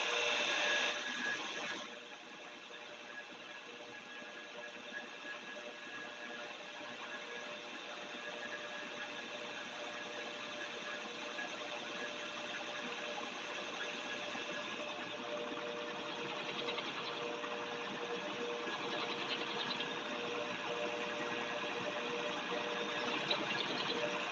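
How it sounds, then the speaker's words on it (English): Steel drift punch ground on a belt sander, a steady continuous abrasive whir and hiss running the full length without pause, close and fairly loud, with no talking. "All I'm doing is putting it on the belt sander here."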